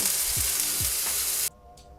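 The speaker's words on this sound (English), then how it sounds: "I took out my waffle maker and preheated it, and I want you guys to listen to this sizzle." Loud, steady sizzling hiss of batter cooking on a hot waffle iron, cutting off abruptly near the end, leaving a faint hum.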